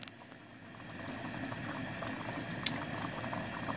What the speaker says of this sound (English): you just leave it on a low simmer for, I don't know, however long it takes to cook down